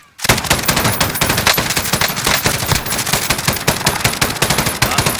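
Dense, continuous automatic gunfire from the Call of Duty Warzone battle royale on Xbox One, loud rapid bursts of shots filling the whole stretch after a brief quiet start.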